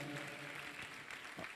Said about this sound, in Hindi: एक बार उनके लिए भी जोरदार ताली बजाकर